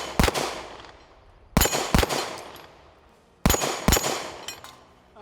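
Springfield Armory Echelon pistol fired at a small steel target from about 30 feet, with several sharp, loud shots coming in quick doubled pairs, each crack followed by a ringing decay.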